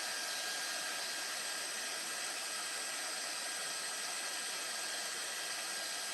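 A heat tool blows hot air over plain white cardstock at close range, giving a steady, even whooshing hiss that holds without change throughout.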